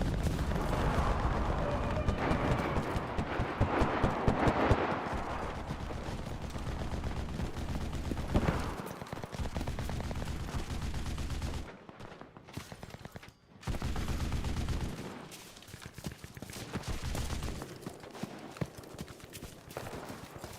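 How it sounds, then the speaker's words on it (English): A video game battle has machine guns and other gunfire rattling in dense bursts, loud and continuous, with short gaps and sharper shots between the volleys. "They fucking start blasting me with machine guns"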